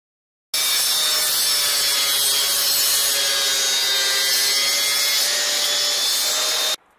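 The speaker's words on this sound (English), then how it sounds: "we're going to use a table saw and cut a" A table saw cuts a 45-degree bevel along wood in one continuous, loud, even pass lasting several seconds, then stops abruptly.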